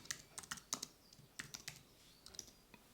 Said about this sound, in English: I'm going to type in IKEA